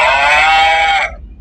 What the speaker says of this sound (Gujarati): ગાયને બોલાવીએ. cattle,